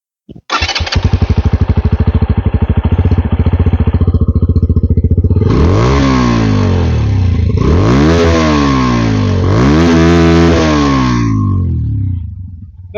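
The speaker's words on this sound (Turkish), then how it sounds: "Sesini dinletecek olursam şöyle egzozu doğru yanaştıralım." A 125cc RKS motorcycle engine idles with a loud, rapid exhaust putter, then revs up three times in rising, falling surges before settling.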